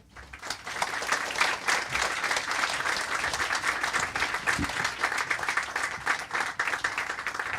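Audience applause welcoming two speakers at a bookstore author event, a dense, steady round of clapping from a full room that holds for several seconds.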